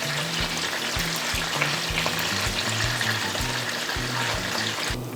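Chicken adobo sizzles steadily in a pan as soy sauce is poured in, giving a constant close frying hiss with light liquid trickling and faint low knocks, and no talking.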